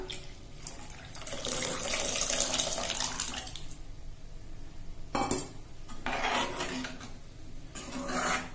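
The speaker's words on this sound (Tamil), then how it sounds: "புளி கரைச்சி எடுத்து வச்சிருக்கேன், அதையும் விட்டுக்கலாம்." Tamarind water is poured into a simmering jackfruit seed theeyal in a kitchen, a few splashing pours with bursts of liquid noise and brief pauses between them.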